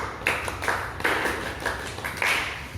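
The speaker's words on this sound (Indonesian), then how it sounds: "satu kali tepuk pramuka" A round of scout-style rhythmic clapping (tepuk pramuka) by a group, a few quick bursts of claps in a patterned rhythm, moderately loud and close.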